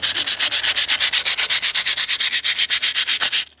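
Steady back-and-forth strokes of 120-grit sandpaper across a patched plastic car bumper, about eight rasping passes per second, close and loud with no talking, stopping abruptly at the end.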